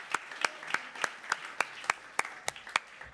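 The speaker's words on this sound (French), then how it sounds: "On peut l'applaudir alors." Sparse applause from a small audience at an informal gathering, about ten separate crisp claps in a steady loose rhythm, fairly quiet and close.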